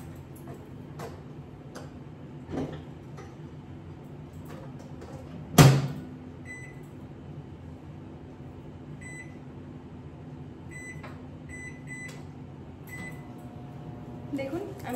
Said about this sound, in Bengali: ভাবলাম যে মাইক্রোওয়েভে ডিফ্রস্ট করে দিই, তাহলে তাড়াতাড়ি হয়ে যাবে